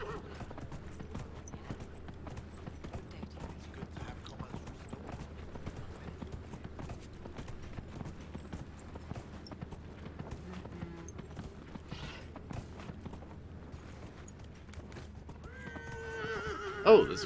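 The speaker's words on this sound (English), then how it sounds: "Come on, horse. Let's go." Steady clip-clop of hooves from a horse ridden across terrain in Dragon Age Inquisition, a continuous galloping rhythm at moderate level, with a short neigh and clatter near the end.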